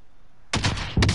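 SKS rifle fire in a video game: a sudden loud shot after a quiet stretch, followed by a second sharp shot, close and unaccompanied.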